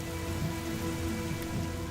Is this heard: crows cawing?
no